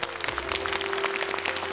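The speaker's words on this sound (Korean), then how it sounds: "큰 박수 받아주십시오." Audience applause at a book launch event that doubled as a campaign rally for the 2012 National Assembly elections in Korea, dense and steady throughout with a low hum underneath.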